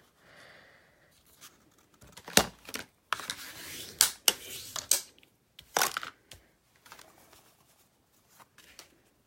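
A paper card base being folded in half while making a handmade stamped card: crisp, crinkly paper rustles and creases in several bursts, fairly close, with quiet gaps between and no talking.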